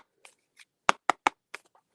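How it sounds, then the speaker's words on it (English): Starseed Oracle cards shuffled by hand during a late-night reading: a handful of crisp riffling slaps in a short uneven burst, close and alone, with no talking. "I am shuffling the Starseed Oracle"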